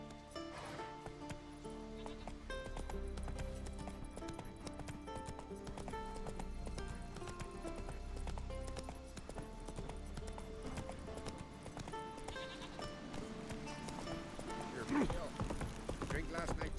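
Hooves of Roach the horse in The Witcher clop steadily at a walking pace over a constant musical bed, with some talk in between.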